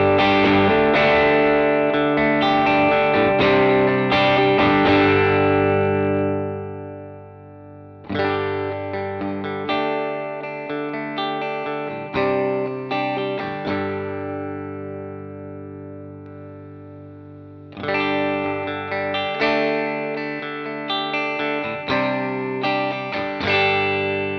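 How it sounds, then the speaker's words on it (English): An electric guitar through an M-EQ Driver mid booster and drive pedal plays chords and riffs in loud bursts, with gritty overdrive and short pauses between phrases. "seamlessly morphing between darker overdriven tones and bright cleans"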